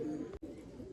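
A female tail-black Palakkad touch pigeon gives a short, soft, low coo in a fancy pigeon loft, broken by a brief gap, fairly faint and close.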